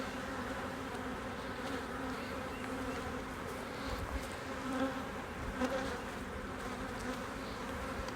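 Honeybees buzz steadily around hive frames during a beekeeping inspection, a close, continuous drone of many insects at a fairly soft level, with no talking.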